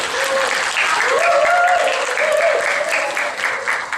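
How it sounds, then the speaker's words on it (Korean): A church congregation gives loud, dense applause to welcome a guest preacher at a Sunday service, continuous clapping filling the room with a faint voice underneath. "자, 우리 큰 박수로 우리 환영하겠습니다."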